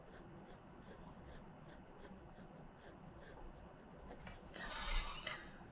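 Soft graphite pencil scratching on watercolor paper in short repeated strokes, faint and close, ending in a louder brief rub as the paper is turned.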